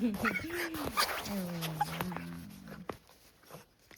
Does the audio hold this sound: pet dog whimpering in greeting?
yes